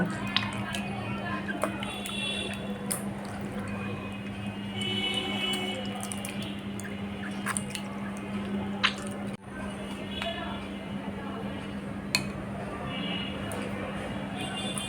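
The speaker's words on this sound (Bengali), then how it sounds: "এখন আমি এগুলোকে কচলিয়ে তেঁতুলের কাঠগুলো বের করে নিব" Soaked tamarind pulp squeezed by hand in water for a sharbat, giving soft wet squishing and dripping over a steady low background hum, with occasional small clicks throughout.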